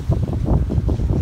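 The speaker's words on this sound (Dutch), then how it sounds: "Het zal slecht te horen zijn met die wind," Wind buffets an outdoor microphone on a camper trip in Nusnäs, Sweden, a loud, continuous low rumble with gusty surges that fills the whole moment.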